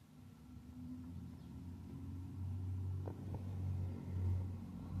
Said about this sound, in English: There's a new vehicle in the area.